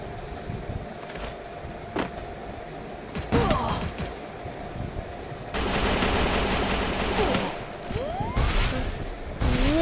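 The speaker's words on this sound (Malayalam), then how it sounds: "അയ്യോ, എന്നെ വെടി വെക്കുന്നോടാ." Gunfire in the Free Fire battle royale game on the Solara map, bursts of rapid shots and single cracks amid game noise and mechanical hum, fairly close, with no speech.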